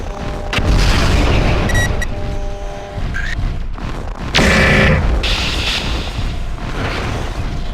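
In the mech combat game MechWarrior 4, on a tundra map, destroyed targets blow up in heavy booming explosions: two loud, deep blasts about four seconds apart, each rumbling away under scattered metallic clanks and electronic tones.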